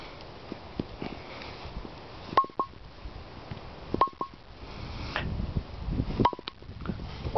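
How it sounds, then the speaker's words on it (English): A worn, autographed Qubica AMF Amflite 2 bowling pin is struck during a sound test, giving three distinct hollow knocks with a brief ring, evenly spaced and close, over steady room noise with no talking. "that's my sound test of this Qubica AMF Amflite 2"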